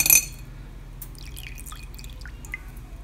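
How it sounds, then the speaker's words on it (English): Bicycle chain lube dripping off a freshly lubed chain as it drains: a sharp knock at the start, then a few faint, scattered drips over a quiet background. "Let it drip."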